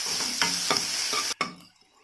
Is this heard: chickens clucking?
no